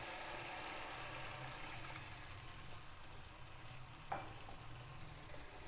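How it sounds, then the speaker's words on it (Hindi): Water is poured into a hot frying pan while making chicken egg kofta curry, producing a continuous close hissing sizzle with a brief sharp clink near the end. "अब इसके अंदर मैं थोड़ा सा पानी डाल दूंगी"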